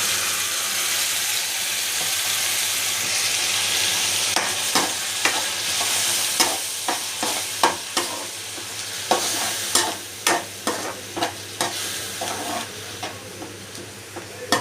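Onions and spices for beef gravy sizzle steadily in a hot pan while a utensil scrapes and stirs in uneven strokes, growing more frequent over time.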